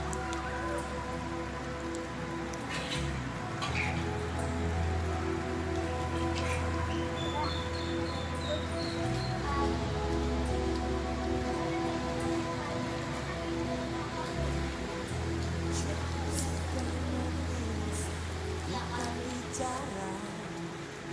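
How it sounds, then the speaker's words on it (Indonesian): Light drizzle patters steadily on surfaces in an outdoor public park in the afternoon, a soft continuous hiss of fine drops with a low background hum, and no speech. "Suasana hujan gerimis."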